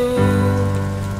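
Steady rain patters on a surface beneath sustained musical tones from a song, continuous and even for the whole stretch.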